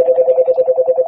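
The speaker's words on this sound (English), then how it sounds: "where's my phone ringing right now?" A phone rings with a steady electronic warble in quick, even pulses, loud and close, with no talk over it.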